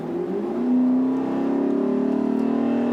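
A 2016 Lexus GS F sports car engine revs up and wails, its tone rising and holding loud and close for a few seconds.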